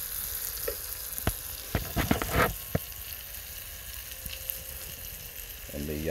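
Lamb on an Auspit rotisserie over low red gum coals in a WEDGE Fire Pit 600, sizzling with scattered crackles and pops, a cluster of sharper snaps midway, moderately close with no talk.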